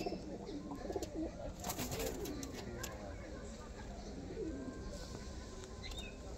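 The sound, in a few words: pigeon cooing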